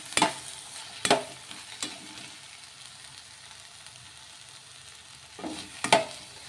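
Puffed rice and egg mixture being stirred in a frying pan, with a few distinct scraping stirs near the start and end over a soft, steady sizzle.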